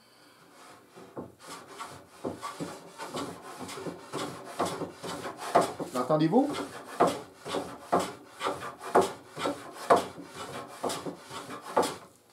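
A wooden hand plane with an adjustable blade takes a light, delicate pass over a board to remove a nick. Short rasping strokes repeat in a quick, regular rhythm, close and fairly soft, with a brief spoken question partway through.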